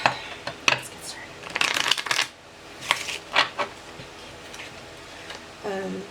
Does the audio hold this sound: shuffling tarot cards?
yes